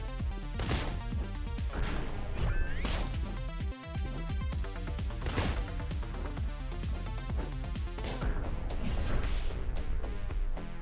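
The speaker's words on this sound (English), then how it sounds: "I wonder how they, like, didn't hear their friends crashing against the door." Enemies crash against a door in the Katana Zero video game, a series of loud impacts and thuds buried in dense, driving game music that fills the whole stretch.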